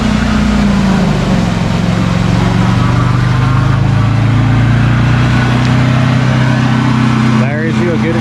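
A truck pushes slowly through deep floodwater that covers the lower part of its body at a flooded riverside RV campground, its steady low engine rumble and sloshing water continuous and fairly loud throughout.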